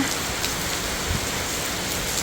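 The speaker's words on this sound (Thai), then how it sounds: "ฝนตกอีกแล้วพี่น้อง" Steady morning rain falling beside a rice paddy dike, an even hiss of drops with occasional louder patters and no talking.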